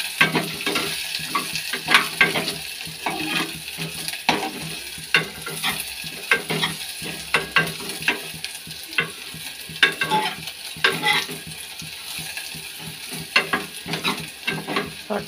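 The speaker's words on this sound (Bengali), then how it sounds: "ডালটা তেলে দিয়ে নিই।" Masoor dal frying in hot oil, a continuous close sizzle broken by frequent stirring scrapes and light utensil knocks, with no talking.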